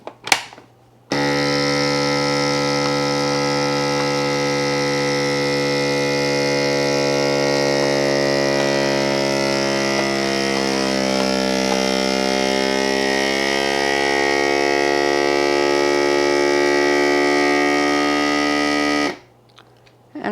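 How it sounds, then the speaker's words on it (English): A chamber vacuum sealer runs on a bag of frozen tomatoes, giving a loud, steady, humming drone with a strong buzzing tone that starts abruptly after a click, slowly shifts in pitch, then cuts off sharply near the end. "I take that over to my vacuum sealer and I vacuum seal it"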